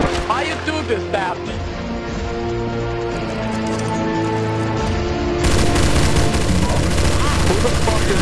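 Rapid, sustained gunfire from Counter-Strike: Source Zombie Escape fills the whole stretch, dense and loud, growing heavier near the end while voices talk over it.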